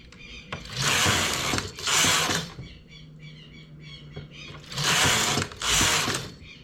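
A knitting machine carriage makes four loud, rushing sweeps across its bed while yarn colours are changed, with quieter clicking and ratcheting in the pauses between passes.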